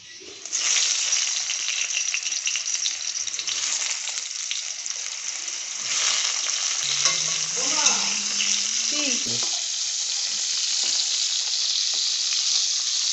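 Salted pointed gourd (potol) pieces hiss and sizzle loudly in hot oil, a dense continuous crackle with a brief squeaky tonal sweep partway through.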